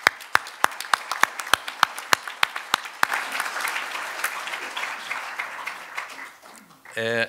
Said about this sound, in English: let's give David another round of applause